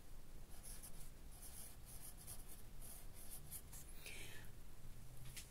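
Handwriting an answer on paper in a classroom lesson, heard as faint, scratchy strokes in short bursts over a steady background hiss.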